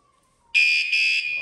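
A bicycle anti-theft alarm goes off after a faint low tone, sounding as a loud, piercing electronic shriek that holds with a brief dip midway, close to the listener.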